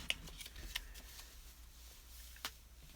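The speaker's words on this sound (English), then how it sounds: "I think I'm going to shuffle this even a little bit more here as best I can." Deck of cards being shuffled at a table, faint soft riffles and sharp card snaps scattered across a quiet room, with no talk.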